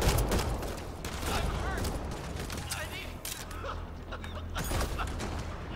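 Rapid gunfire and shotgun blasts in Mass Effect Andromeda play out as dense, crackling combat noise that continues steadily throughout, with in-game voices mixed in.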